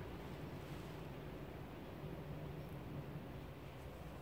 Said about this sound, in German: Es windet so sehr.